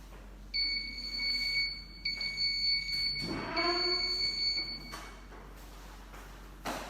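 An Arduino RFID door lock buzzer sounds a high electronic tone in three separate beeps for access denied, with a louder rising electronic chirp in between, close and clear over faint background noise, no talking.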